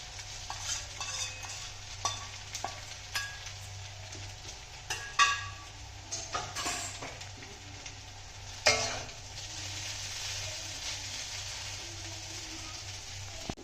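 Fried vegetables being stirred into hakka noodles in a pan, a soft low sizzle under repeated scraping and clacking of a spatula against the pan, with sharper knocks now and then.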